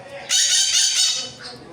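A bird, likely a rooster, calls loudly with a sustained shrill crowing cry lasting over a second amid a home potting scene, fairly close and dominant over faint background noise.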